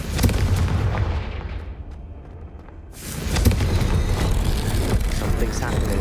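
A Confringo spell explosion in a Hogwarts video game, a loud booming blast that rumbles and decays, then a second burst of roaring rumble follows close behind.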